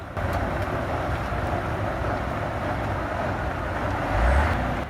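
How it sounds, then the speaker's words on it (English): A railway snowblower locomotive in Norway rumbles past, a loud continuous engine roar with blowing noise, steady throughout and swelling briefly near the end. "Bilhack Railway snowblower in Norway"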